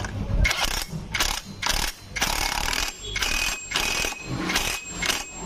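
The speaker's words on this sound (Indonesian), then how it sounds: "nanti pakai kunci sok, muter apa enggak, ringan apa enggak muternya" A socket wrench ratchets in about eight quick clicking bursts while turning the engine of a Honda Beat scooter that went four months without an oil change. The bursts are close and loud, separated by short pauses.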